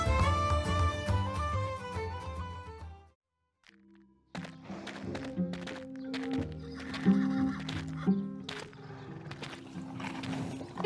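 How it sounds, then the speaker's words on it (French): Horses in the Star Stable video game neigh and whinny loudly in repeated calls, broken by a short quiet gap, with clip-clop hoof steps underneath. "allons voir les chevaux"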